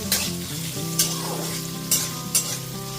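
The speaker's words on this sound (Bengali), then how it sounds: "এরপর সমস্ত সবজি একটুখানি খুব ভালো মতো নাড়াচাড়া করে নিচ্ছি।" Chopped vegetables with small pieces of capsicum are stirred and fried in a pan, giving a continuous sizzle with four sharp scraping spoon strokes, up close and with no talking.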